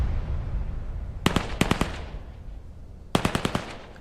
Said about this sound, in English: Few shots can be heard.